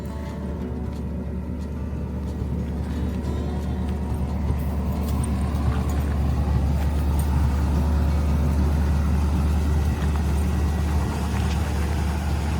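Idling engine of a 1950 Oldsmobile Rocket 88 Futuramic convertible with manual transmission, a steady low rumble with slight swells as the gas is pressed, close and continuous with no one talking.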